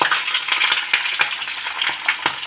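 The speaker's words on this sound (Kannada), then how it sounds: "ಇದನ್ನು ಸಾಫ್ಟ್ ಆಗೋವರೆಗೂ ಹುರ್ಕೋಬೇಕು" Pieces of winged treebine (mangaravalli) fry in hot oil for homemade pickle, giving a close, steady sizzle with crackles and stirring scrapes throughout.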